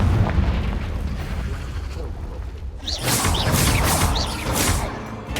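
Confringo blasting spells fired in Hogwarts Legacy, a series of booming explosive bursts over rumbling game ambience, with a voice speaking through them.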